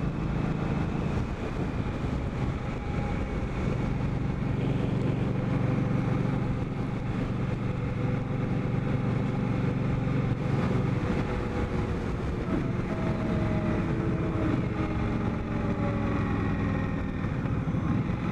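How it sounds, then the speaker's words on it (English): An Indian Scout motorcycle engine braking on the road, with a steady, close engine drone and rumble throughout, mixed with constant wind buffeting. "This is all engine braking."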